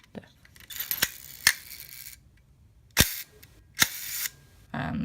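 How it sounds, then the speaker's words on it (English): A vintage camera shutter fires several times in sharp, close clicks separated by quiet gaps, each followed by brief mechanical whirring; the last firing ends in a duller, dragging noise as the shutter sticks. "And there the shutter gets stuck."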